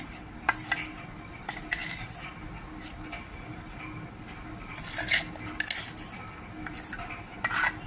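Rice flour being mixed into ground chickpea idli batter in a bowl, with a spoon scraping and clinking against the vessel in scattered, irregular knocks over a quiet kitchen background.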